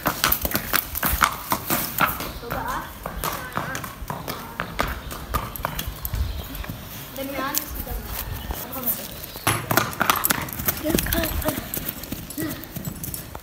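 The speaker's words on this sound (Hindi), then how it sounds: "मैं इधर घोड़ा भगाता हूँ" Horse hooves clip-clop steadily through most of the stretch, a rhythmic run of close, moderately loud strikes, with people talking over the footfalls.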